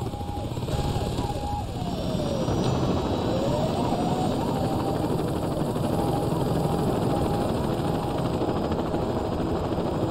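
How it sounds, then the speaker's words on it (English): Saints Row 2 attack helicopter flying overhead, a steady whirring rotor drone that persists for the whole stretch, mixed with game noise while someone talks over it. "You gotta watch out for those attack helicopters, because they can blow you up."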